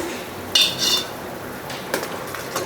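A metal lid is lifted off a pot of simmering coconut milk fish gravy, giving a brief clink and scrape of metal followed by a second faint clatter in a quiet kitchen.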